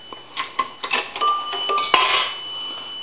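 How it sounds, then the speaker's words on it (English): An A&E three-slot payphone's coin bell struck twice as a dime drops, bright metallic dings ringing out with a sustained resonant tail after coin clatter, close and alone. "Let's go a dime. That'll ring the bell twice."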